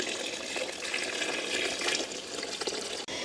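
Water pouring steadily into a pot of rice for village-style tomato biryani, a loud continuous rushing splash that ends abruptly near the close.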